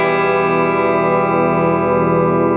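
A single sustained electric guitar chord through a Selmer Truvoice TV15 valve amp, ringing out thick and harmonically rich, held evenly at steady loudness with a slightly distorted tone.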